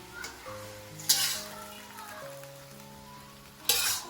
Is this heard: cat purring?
no